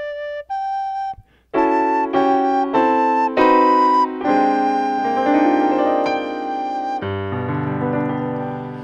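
Recorder playing a phrase of "Jolly Old St. Nicholas" over a pre-recorded piano track, a few clear sustained notes in a steady rhythm, close and fairly loud, with no voices.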